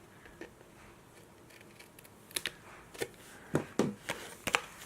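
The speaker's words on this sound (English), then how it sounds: "hold your scissors at an angle and just clip" Scissors held at an angle clipping the edges of paper, a handful of short, sharp snips spaced irregularly and close by in an otherwise quiet room.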